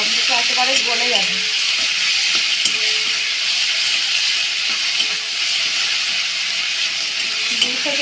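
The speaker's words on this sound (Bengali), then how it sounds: "2 থেকে 3 মিনিট টমেটোটা নেড়ে নিচ্ছি, ভালোভাবে মিক্স করে নেব" Chopped tomatoes sizzle and fry in a pan while being stirred for homemade pasta, a steady bright hiss running the whole time, with faint voice sounds early on.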